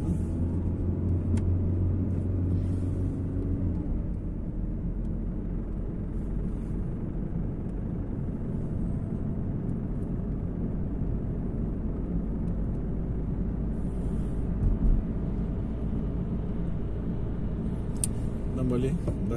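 A car engine rumbles steadily under acceleration while driving on a town road during a driving lesson, a continuous low drone throughout with a person talking over it.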